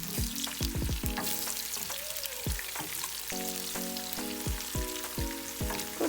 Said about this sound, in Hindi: तो तेज़ चूल्हे पर आप इसको बघार को तैयार करें।